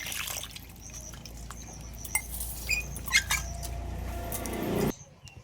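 Water splashing and dripping as lychees and a mango are rinsed by hand, with soft patters and a few sharper clinks before the sound cuts off abruptly near the end.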